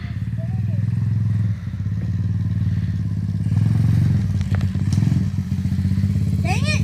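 A Kayo TD125 dirt bike in second gear rides through snow, its engine chugging steadily and close throughout. Faint clatter and thumps sit under the engine.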